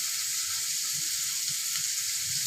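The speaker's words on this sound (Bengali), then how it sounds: "চিংড়ি মাছটা ভাজা ভাজা করে ফেলবো যতক্ষণ পর্যন্ত না চিংড়ি মাছের ভাজা ঘেরান নাকে আসে।" Prawns fry in a pan with cumin and onion, a dense, constant close-up sizzle that stays loud and even throughout with no voices.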